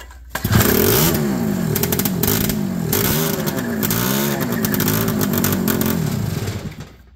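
A loud, rough Honda Odyssey vintage dirt track race car engine, flooded, fires up close by and revs hard, its pitch surging repeatedly with a raw, unmuffled roar from a loosely fitted exhaust.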